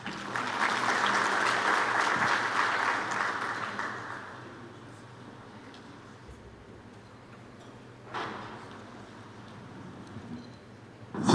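Conference audience applauding a speaker, Prof. Nesamvuni, at a science congress: a few seconds of moderate clapping that fades away, leaving a quiet room with a faint hum and a small stir near the end.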